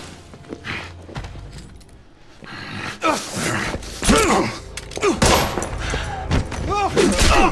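Sniper gunfire in The Order 1886, loud cracks and ringing shots amid a chaotic battle with debris and shouting voices, near and intense.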